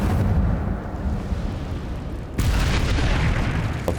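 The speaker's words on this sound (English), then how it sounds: "这东西为什么会爆炸" A magical fire explosion from the Incendio spell in Hogwarts Legacy, a deep rumbling blast that is followed by a second sharp, louder burst and a crackling roar.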